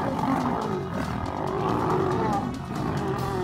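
A lion roars in a deep, sustained, rumbling bellow that stays loud and steady throughout.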